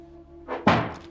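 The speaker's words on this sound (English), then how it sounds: "That door shut." Single heavy wooden door slamming shut inside an old house, a sharp close thud after a brief rising swish, loud and alone against a faint hum.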